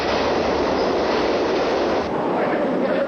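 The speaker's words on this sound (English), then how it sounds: "The train was due to arrive at the station in less than a minute." A subway train rumbles loud and steady as it approaches the station, a continuous roar of wheels and carriages with a faint high squeal, without any voices.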